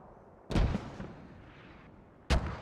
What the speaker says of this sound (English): But mortars are going straight for this farm, I think.